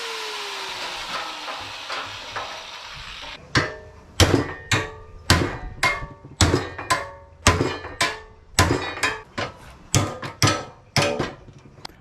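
A faint hiss gives way to about a dozen loud hammer blows on a metal bumper support of a wrecked Honda Civic, struck in a steady rhythm, each ringing briefly before the next.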